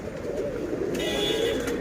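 Pigeons coo steadily in a breeding loft in Mumbai, a soft continuous throaty murmur from several birds close by, with no talking over it.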